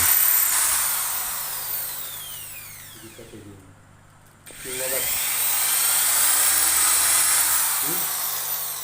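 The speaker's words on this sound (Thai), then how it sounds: "เจาะนะครับเจาะเป็นรูๆไว้" An electric drill bores holes into an artificial wood door with a loud, high whine, stopping briefly midway before starting up again; a voice talks faintly in between.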